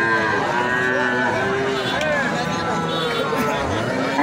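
Cattle lowing at a busy rural livestock market, with loud, sustained moos filling the whole stretch and the murmur of a crowd beneath them.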